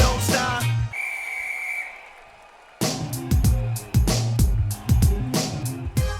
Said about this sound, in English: on the sound of the whistle, let the games begin